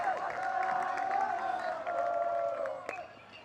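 Packed stands at a high school playoff baseball game roar with sustained cheering and whoops, loud and unbroken for a few seconds before easing slightly near the end.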